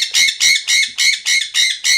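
A pet bird squawks indoors, seven loud, harsh, evenly spaced calls in quick succession, close by and with no talking over them.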